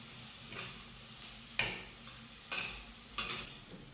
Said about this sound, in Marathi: तर आता हा मध्यम आचेवर आपण कांदा परतून घेऊयात